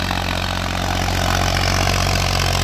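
A 1991 Massey 35 tractor, old and pulling a cultivator, runs close by with a steady, loud diesel drone and low rumble that stays constant for the whole stretch.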